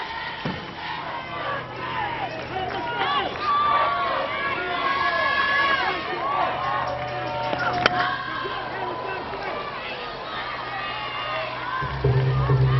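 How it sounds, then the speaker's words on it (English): A large crowd fills Hall of Fame Stadium at an NCAA tournament softball game between Oklahoma and JMU, a steady roar of cheering and shouting that swells near the end, with no talk over it. "Terrific crowd on hand."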